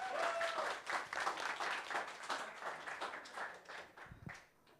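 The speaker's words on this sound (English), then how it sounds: "Give him a hand of applause for that one." Audience clapping at a workshop session, a fairly faint, steady round of applause that gradually fades away toward the end.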